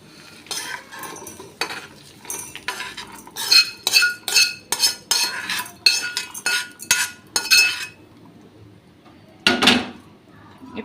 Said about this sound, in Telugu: ఇప్పుడు వీటిని ఒక మిక్సీ జార్లోకి అయితే తీసేసుకుంటున్నాను.